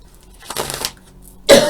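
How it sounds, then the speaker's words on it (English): A single short cough, close and sharp, following a softer breathy throat sound. "Felt that cough coming."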